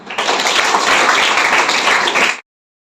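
A school audience at a declamation contest applauds steadily for about two seconds, dense overlapping claps at even loudness, then stops abruptly into silence.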